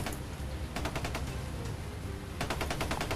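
Automatic gunfire in a shooting video game, rapid loud bursts of shots at the start and again near the end, with continuous noisy action in between.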